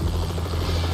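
Helicopter in the racing video game Asphalt Street Storm, a loud, steady rotor drone with a low pulsing throb that fills the moment without any talk.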